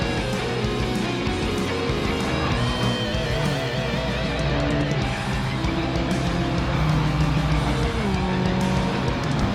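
A Mini racing car's engine in a circuit race, a loud continuous high-revving drone with shifting pitch as other cars run close by, with faint tyre noise throughout.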